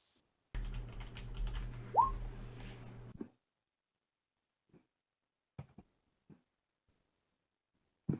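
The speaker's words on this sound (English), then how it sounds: "Alex is typing in chat, so if you guys see that" Typing on a computer keyboard: a few seconds of soft, dense clicking over a low hum, then scattered single key taps with quiet gaps between them.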